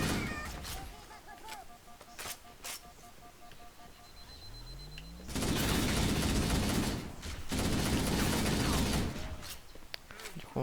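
Gunfire in the video game Halo, with loud sustained bursts of automatic fire in the second half, following scattered shots and game sound effects.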